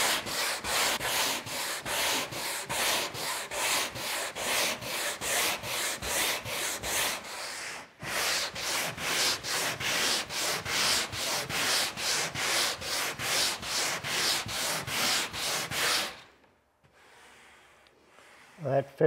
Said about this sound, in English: As the hull bends over this, we can then sand this.